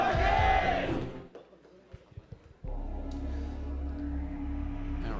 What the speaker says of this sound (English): more big cheers here in the audience